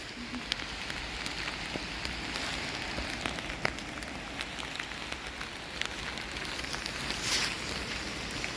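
Steady rain falls in Batumi Botanical Garden in Georgia, a dense even patter with scattered sharper drops landing close by, continuing without a break and with no voices.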